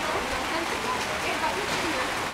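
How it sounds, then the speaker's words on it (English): Steady hiss of rain falling, a dense, even wash of sound with no talking, continuous for the whole stretch. "Oh, it's raining."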